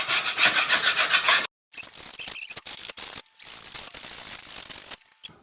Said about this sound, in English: Get your scraper.